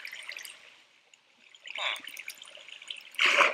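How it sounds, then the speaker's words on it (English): Flowing water in Minecraft trickles and splashes in short bursts, quiet at first and then swelling into louder gushes near the end, with no talking. "Wait, what is this water doing?"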